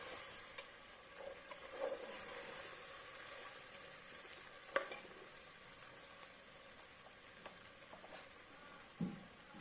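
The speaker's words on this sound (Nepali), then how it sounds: "आलु पनि मजाले फ्राई गर्नुपर्छ।" Soaked chickpeas and dried peas fry in a pan with three potatoes. They give a steady close sizzle broken by a few scrapes and clacks of stirring, with no voices.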